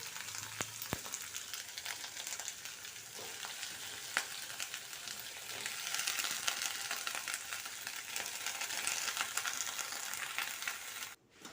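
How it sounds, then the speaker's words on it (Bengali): Onion greens and potatoes fry in a pan, a close, steady sizzle with occasional stirring clicks and a slight swell in intensity partway through. "আজকে পেঁয়াজ কলি আর আলু ভাজা করছি"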